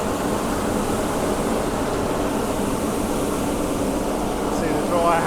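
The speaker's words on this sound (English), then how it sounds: "See the dryer howling away" Grain dryer running at night, a loud continuous roaring fan howl with a broad steady rush and no breaks, close and constant throughout.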